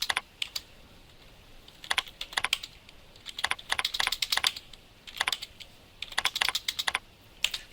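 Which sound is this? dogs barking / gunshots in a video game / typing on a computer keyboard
typing on a computer keyboard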